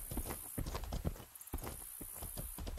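A horse's hooves clip-clop in the Mortal Online game, with a quick, uneven run of hard knocks at close range, faint and steady, and a thin high hiss running underneath.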